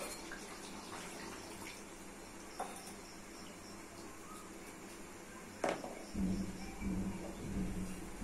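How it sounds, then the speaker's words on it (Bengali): Water is poured into a pot of boiled mung dal, a faint steady wash of liquid that swells into a fuller, nearer pouring gush toward the end. "মুগ ডাল সিদ্ধ হয়ে গেছে, দিয়ে দিচ্ছি জল।"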